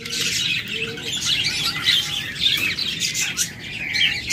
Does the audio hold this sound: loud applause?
no